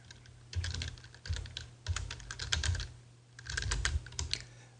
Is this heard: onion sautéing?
no